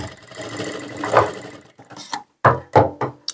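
Sewing machine stitching a sherwani kurta, a short whirring run that builds and fades, then a few quick separate bursts of stitching up close.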